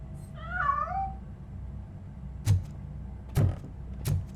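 A cat meows once near the start in the video game RoboCop: Rogue City, a clear wavering cry followed by a quiet pause and then three short dull thuds.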